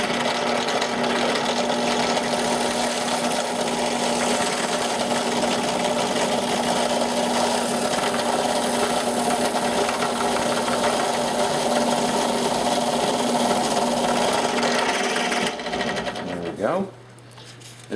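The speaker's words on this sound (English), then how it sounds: "and we'll drill this hole." A high-speed steel drill bit boring a hole in foam, a loud continuous motor whine with a steady pitch that runs for about sixteen seconds, then winds down and stops.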